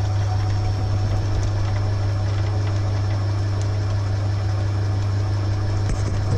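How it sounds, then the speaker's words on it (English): A Myford lathe runs steadily with a die cutting a thread on a stub mandrel, producing a constant loud motor hum with faint scraping and vibration over it, continuous and close, no voices. "The die is now cutting. You can just let it cut."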